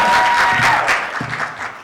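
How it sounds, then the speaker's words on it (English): Audience applause at a media and communication mentoring event, a steady wash of many hands clapping for nearly two seconds with a low voice or music tone briefly underneath. "Big round of applause."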